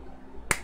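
A single sharp hand clap rings out once, close and crisp, over a quiet low hum.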